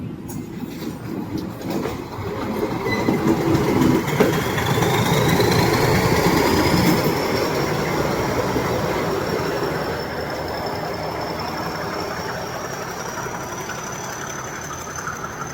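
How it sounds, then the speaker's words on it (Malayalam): A train rumbles loudly through the railway station at Ooty, wheels clattering on rails, with a long high-pitched squeal of wheels rising and holding. "ഞങ്ങൾ വന്നപ്പോൾ അവിടുന്ന് ട്രെയിൻ വന്നിട്ടുണ്ട്"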